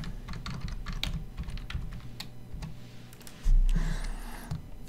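Keys on a computer keyboard are typed in a quick, steady patter of clicks, close and moderately loud, with a brief louder low thump near the end and no talking.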